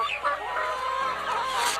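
Hens cluck and chatter busily inside a poultry shed while waiting to be let out, several birds calling at once in a close, steady stream of squawks.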